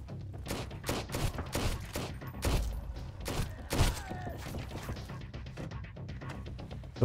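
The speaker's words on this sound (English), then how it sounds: "So that guy up there is still shooting." Enemy gunfire in the survival game Sunkenland: a steady run of sharp shots and crashing impacts, some close and loud, others more distant, rattling on throughout with no talk.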